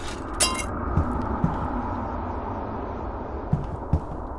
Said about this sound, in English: The sound of broken glass, even though no glass has been broken.